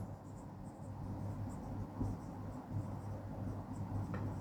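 Pen scratching steadily across paper while a linear equation is handwritten for a 10th-grade math lesson, close and continuous with small bursts of strokes, no talking.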